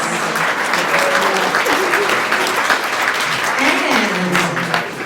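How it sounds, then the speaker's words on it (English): A crowd applauds a World War II veteran at a Veterans Day tribute in Sedona. The clapping is loud and dense and lasts throughout, with a voice briefly audible beneath it. "And also another big round of applause for our World War II veteran, Boots Klotz."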